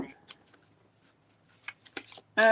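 Oracle cards are shuffled softly, making scattered light papery flicks and riffles, quiet and close, with a louder burst of shuffling at the end.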